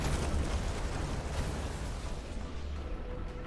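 Missile explosions in the mech tactics game Phantom Brigade, a loud, continuous roar of blasts and rumbling debris that fills the whole stretch without a break.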